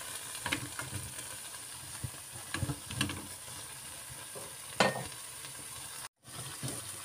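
A faint, soft sizzle of vegetables in a pan for vegetable lumpia, broken by a few scraping clatters of stirring and a brief cutout near the end, with no one speaking.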